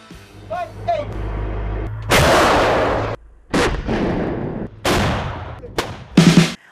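Heavy gunfire from a Skynex anti-aircraft gun roars in several sustained volleys separated by short pauses, loud and close.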